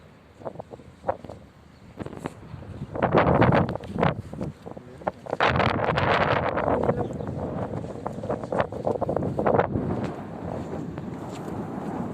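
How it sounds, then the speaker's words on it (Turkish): Strong gusty wind buffets the microphone in loud roaring waves, rising and falling over several seconds, in Perşembe, Ordu, Turkey. "çok rüzgarlı."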